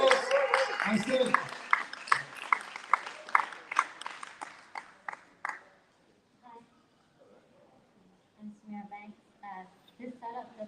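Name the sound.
audience applause for a comedian coming on stage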